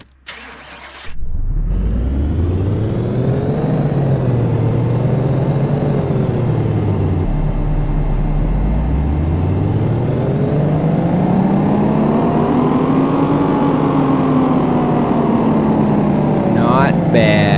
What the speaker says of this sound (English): Let's get a dyno on both of these cars.